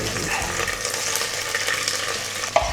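Curry leaves, pandan, cardamom and lemongrass sizzle in hot coconut oil, a steady crackling fry with faint stirring scrapes and a small clink near the end.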